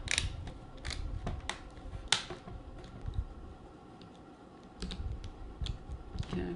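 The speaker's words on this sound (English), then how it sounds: "You're going to hear those satisfying snaps as everything goes back into place." Plastic screen parts of an Acer Aspire 1 laptop snapping back into place during a screen replacement, a series of sharp close clicks and snaps at irregular intervals, with no talking.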